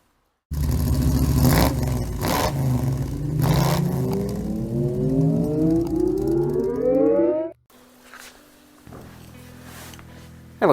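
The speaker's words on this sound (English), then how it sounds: "I better get the car inside the garage before I get electrocuted." An electric Mini drives into a garage in heavy rain, its motor giving a rising whine as it speeds up over a rumbling hum, then cutting off abruptly to quiet.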